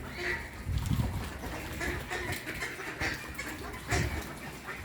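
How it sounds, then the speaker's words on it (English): Flock of birds being fed outdoors in Norway, a busy mix of quacking and chattering calls at moderate distance, continuous with soft background noise. "So look at the birds. They are being fed here."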